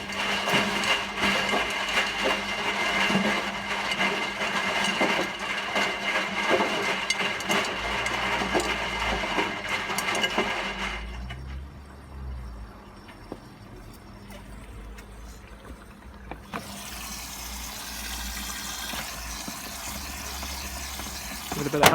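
A washing machine's drain pump runs and the machine draws in water, first a loud, busy rattling hiss, then a quieter low hum, then a rising rush of inflowing water.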